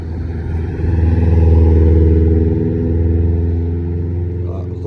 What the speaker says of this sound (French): sifflement des turbos